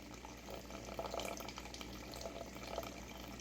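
Warm water pours into a bowl for sourdough dough, a soft, close trickle that continues steadily for a few seconds against quiet background noise.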